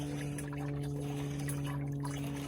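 Pottery dipping glaze pours through a fine mesh sieve in a steady, continuous wet trickle, fairly quiet and unbroken, with a low hum underneath.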